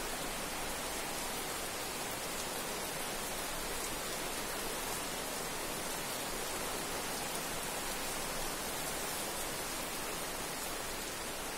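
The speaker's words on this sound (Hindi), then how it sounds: "बाहर बहुत जोरों की बारिश हो रही है।" Heavy rain pouring down outdoors, a dense, steady hiss with no breaks, heard alone at moderate distance and fairly soft overall.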